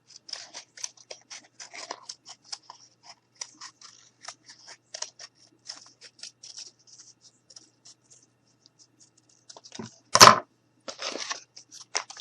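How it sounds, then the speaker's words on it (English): Scissors snip through a cardboard tube to cut out a circle, a close series of short crisp cuts and crunches with pauses, then a louder rustling crunch near the end. "I'm just going to take my cardboard or the tube, and I'm just going to cut a circle out."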